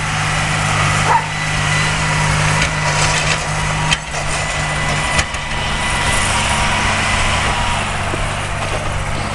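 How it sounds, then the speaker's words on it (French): A farm tractor with a seed platform drones steadily while sowing a field, with a constant low engine hum and a broad, noisy rumble that persists without a break. "Et là il y a un autre tracteur de la ferme"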